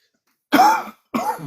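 Two sharp, close coughs in quick succession, each a short raspy burst, with silence before and between them.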